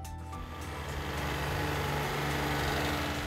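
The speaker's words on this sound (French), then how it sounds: "à savoir repousser le fourrage avec la tondeuse à gazon." A ride-on lawn mower engine drones steadily and close, a continuous rumbling hum that grows slightly louder, with no voices.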